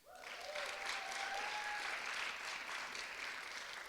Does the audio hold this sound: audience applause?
yes